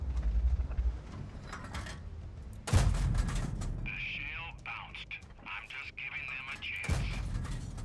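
An M41 Bulldog light tank firing its cannon in World of Tanks, one sharp loud gun blast followed by mechanical clanking and a ringing metallic whine, with someone talking over the game sounds.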